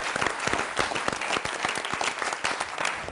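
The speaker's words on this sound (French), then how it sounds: "on peut l'applaudir et l'encourager" A crowd claps for a magician named Charlie at the French magic championship, brisk, continuous applause with individual claps audible through the mass, fairly close and unbroken.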